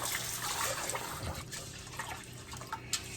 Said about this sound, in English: I'm just gonna rinse it one more time just to get it extra clean